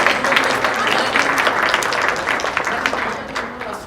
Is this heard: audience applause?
yes